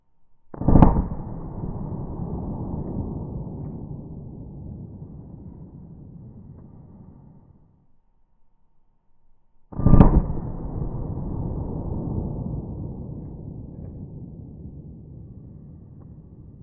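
Two loud, sharp gunshots from a .40 S&W pistol firing 165 grain HST carry rounds, spaced about nine seconds apart, each followed by a long echoing outdoor decay.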